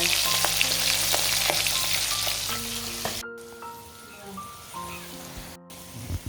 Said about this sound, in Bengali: আগে আলুগুলো ভেজে নিয়েছি এবারে মাঝে মাথাটা ভেজে নেবো